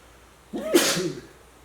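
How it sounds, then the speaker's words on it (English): A single person sneezes once, close and loud, in a quiet indoor space with no talking. "That typically happens when you sneeze."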